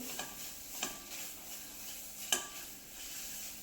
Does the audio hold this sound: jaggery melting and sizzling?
yes